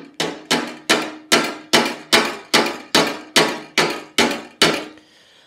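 Twelve evenly spaced metallic hammer taps ring out on a Lambretta scooter legshield as a dent is worked out, each strike close and sharp with a short ringing decay before silence.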